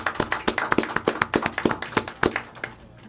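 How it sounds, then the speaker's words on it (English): Applause at a county commissioners' meeting honoring employees, a loose run of distinct claps from a small group that thins out and fades by the end. "So I'd like to applaud all of our employees for a job well done."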